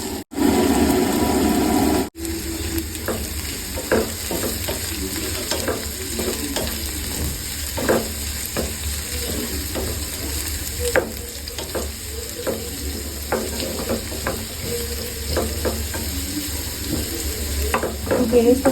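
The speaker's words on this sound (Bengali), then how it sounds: "এরপরে আমি অনিয়নগুলোকে ছেড়ে দেবো" Onions hit hot oil for mutton kosha with a loud, close burst of sizzling, which settles into a steady crackling fry marked by scraping stirs throughout.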